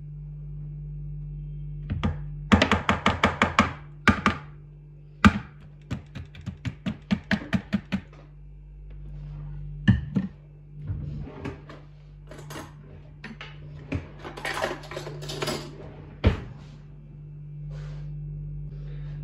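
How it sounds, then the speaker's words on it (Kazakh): A spoon stirs cottage cheese, sugar and semolina together in a bowl, making a quick run of sharp clinks and taps against the dish followed by scattered softer scrapes, close up with no talk. "Üstüne қантымызды саламыз, манный крупамызды салып, қасықтың көмегімен араластырамыз."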